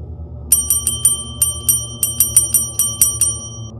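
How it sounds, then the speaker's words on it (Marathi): A bell on a state transport bus rings loudly and repeatedly, a rapid series of bright metallic dings in quick bursts over a low rumbling background, with no voices. "यावेळी घंटा जोरजोरात वाजू लागली."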